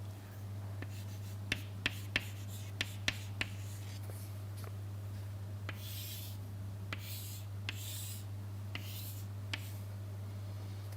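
Pen or chalk writing by hand as a diagram is drawn, a series of short scratchy strokes and taps at an irregular pace over a steady low mains hum, close and fairly quiet.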